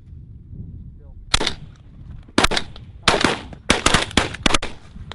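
Shotguns boom while hunting pigeons, about six sharp, loud blasts in uneven succession, some in quick pairs, over quiet outdoor background with faint low rumble.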